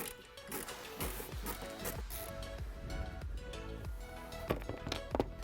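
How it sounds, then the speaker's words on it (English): Removing the screws of a factory mass airflow sensor on a GMC Sierra air intake with a T15 Torx bit: continuous faint clicking, ratcheting mechanical noise with small scraping taps, no talking. "Use a T15 Torx bit to remove the factory MAF sensor."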